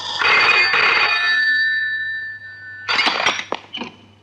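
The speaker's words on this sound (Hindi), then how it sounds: "एडिटर साहब, आपका फोन।" An old office telephone bell rings in two bursts, a long trilling ring that fades out, then a shorter broken ring after a pause, close and loud with no talk over it.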